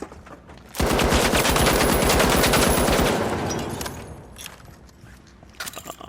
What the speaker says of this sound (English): A lot of recoil on that gun.